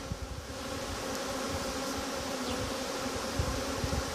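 Honey bees buzz densely around a hive while a queen is being moved, a steady close swarm hum throughout with no talking.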